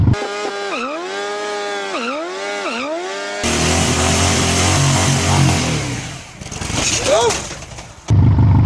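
A motorcycle engine revs hard in a burnout: three rising-and-falling revs, then a sustained loud roar with tire noise and a final burst. A voice talks partway through.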